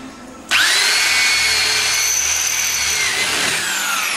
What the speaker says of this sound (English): Look, see, proper drill that works.